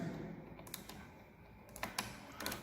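Faint, quick clicking ticks in small clusters from a screw gauge ratchet mechanism, close up against a quiet room hum.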